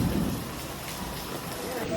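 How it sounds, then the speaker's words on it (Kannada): Steady rain pours with a low rumble of thunder beneath it, a continuous dense wash of sound filling the whole stretch without a break. "ಮಳೆ ಬರೋದೈತಿರ್ಲೆ"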